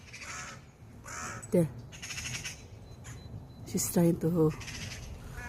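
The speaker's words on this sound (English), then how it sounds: "You see the crows all around." Crows caw around a tree in short, scattered calls at moderate distance, mixed with people talking nearby.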